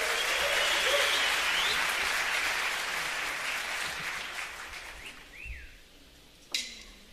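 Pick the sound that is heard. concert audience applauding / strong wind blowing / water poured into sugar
concert audience applauding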